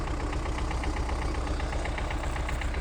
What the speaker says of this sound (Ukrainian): Трактор кропить пшеничку